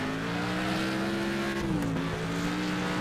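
Engine drone of rival racing cars close behind in the driving game Next Car Game, a steady near hum with shifting pitch and a brief tire scrub midway, with no talking.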